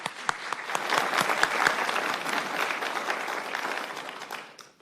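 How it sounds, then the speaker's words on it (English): A round of applause at a county commissioners' business session, steady crisp clapping from a modest crowd with distinct individual claps, tapering off at the end. "Let's give a round of applause."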